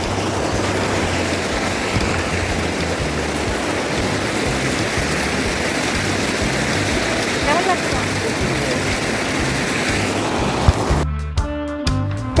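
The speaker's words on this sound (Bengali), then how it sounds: "এই নদীর কলকল শব্দ" A river murmurs through forest near the Chinnakallar waterfall in Valparai, a steady, close babble of flowing water that runs throughout, with a short burst of music at the very end.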